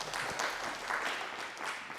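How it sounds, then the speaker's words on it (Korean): Korean church congregation at a Christmas Sunday service in Berlin applauding in celebration, a soft, steady patter of clapping from many hands lasting a couple of seconds, fairly distant and even. "박수로 한번 우리 축하해 주시기 바랍니다."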